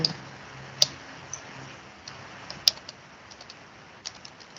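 Faint, sparse key clicks from a computer keyboard, a few isolated taps spread out over a quiet background with no speech.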